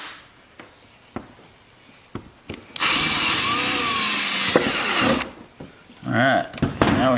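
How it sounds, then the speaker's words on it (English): A power drill with an oversized bit enlarges holes in a Corvette C7 rear diffuser, whirring loudly for a few seconds, stopping, then running again in shorter bursts, with scattered knocks and clicks of handling between. "We're going to drill these a little bit bigger."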